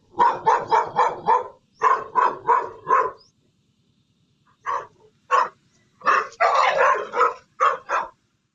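Dog barking at a snake in a tense encounter, a quick run of sharp, loud barks in bursts, a short pause, then more barks and yips close by.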